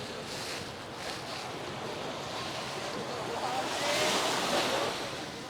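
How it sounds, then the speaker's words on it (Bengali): Sea waves roll in and break on the shore, a broad, fairly faint wash that swells toward the end, with wind noise over the microphone and no clear speech. "এই যে ঢেউ আসছে পড়ছে, হ্যাঁ একটা বড় ঢেউ"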